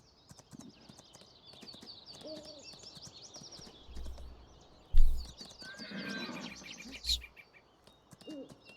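Horse whinnies and clip-clopping hooves in the Farming Simulator 19 video game, with a loud neigh at about five seconds and another near seven over steady hoof taps, game ambience and faint bird calls.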